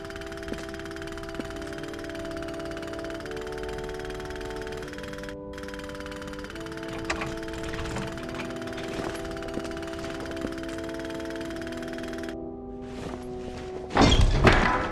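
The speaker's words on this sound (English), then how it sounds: "With the jackhammer making so much noise outside, nobody will hear a few blows on the door." Jackhammer rattling outside in the adventure game Memento Mori, a continuous muffled chatter under sustained music tones, followed near the end by a couple of loud, close thuds like blows on a door.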